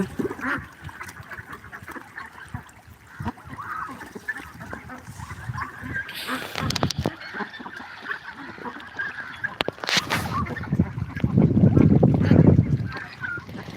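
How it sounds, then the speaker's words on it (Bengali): Domestic ducks honk and quack together at a large duck farm. The noisy flock sounds close and runs on continuously, with a few sharp knocks and a louder burst of calls near the end. "এখানে প্রায় ছয় থেকে সাত লক্ষ টাকার হাঁস আছে"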